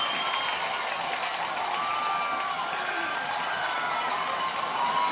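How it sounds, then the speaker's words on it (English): Spectators at a Northshore High School football game against Mandeville cheer and shout in a continuous roar, with a few higher whistles or yells rising above the steady crowd noise. "North Shore cheering."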